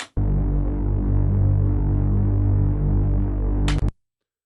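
A thick, detuned Reese synth bass with soft clip distortion, OTT and a low-pass filter holds steady for about four seconds, throbbing with slow phasing movement, then cuts off abruptly after a brief bright click.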